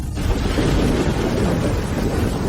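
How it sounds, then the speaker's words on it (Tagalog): Heavy rain pours with thunder, a dense, loud, steady roar that fills the whole stretch with deep rumbling underneath and no voices. "Malakas ang ulan."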